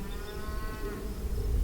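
Cows moo outdoors on a rural property, a low drawn-out bovine call under steady ambient noise, with no speech.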